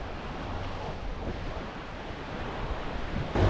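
Steady roar of small ocean waves washing onto a beach in La Union, Philippines, with wind buffeting the microphone and a louder gust near the end.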